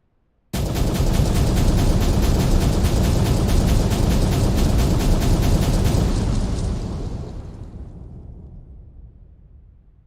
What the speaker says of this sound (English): But the boom booms are going to happen